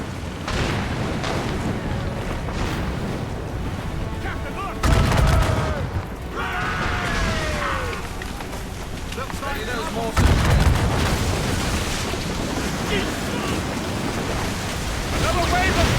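Cannon fire and explosions against fire ships in the naval combat of Assassin's Creed Rogue. Heavy booming blasts hit at intervals over rushing wind and sea surf, with a busy, loud battle din throughout.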